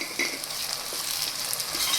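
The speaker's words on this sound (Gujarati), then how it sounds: "હવે ડુંગળી આપણી ચડી ગઈ છે તો તેમાં આપણે ટમેટાં એડ કરી દઈશું" Onions and tomatoes frying in a pan for Kathiyawadi varaliyu, a steady close sizzle with light stirring scrapes throughout.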